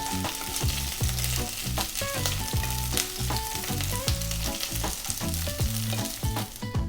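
Tuna steak fries in hot oil in a pan, a dense, lively sizzle with constant crackling and popping, close and steady throughout, with no talking.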